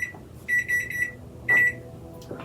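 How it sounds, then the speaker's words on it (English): A kitchen timer beeps in two clear electronic bursts about a second apart, the first a short double chirp and the second a single longer tone, alone in a quiet kitchen while a homemade pie crust bakes. "our timer just went off"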